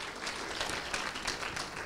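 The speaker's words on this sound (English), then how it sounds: "Yes, that's worth clapping." Steady audience applause at a civic innovation talk, dense clapping from a crowd holding an even level throughout with no voices over it.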